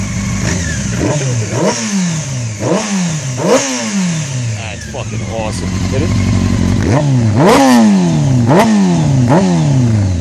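Honda CBR 600 F4i stunt motorcycle engine revving hard again and again, each rev rising sharply then falling, loud and close while people talk and exclaim over it.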